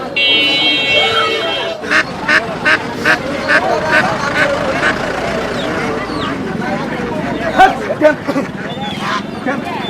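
Native village ducks at a rural poultry market, a run of loud nasal quacks and honks in a rhythmic burst followed by scattered calls, with people talking over crowd noise.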